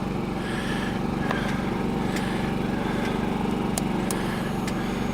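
Loud, close motorcycle engine of a Kawasaki KLR 650 running with a steady throbbing rumble throughout, on a stormy day at a state park campsite, with faint clicks and knocks over the drone.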